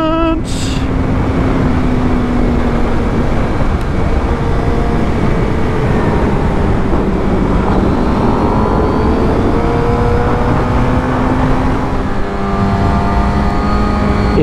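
Suzuki GSX-R750 sport motorcycle ridden hard along a twisty road, its engine droning loud and continuous, rising and falling in pitch with gear changes, close up under heavy wind rush.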